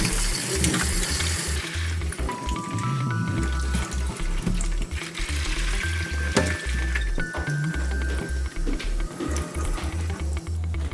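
Water rinsing a retrobrited Commodore 64C plastic case: a loud, continuous splashing rush with gurgles and a few faint tonal squeaks, close by and uninterrupted.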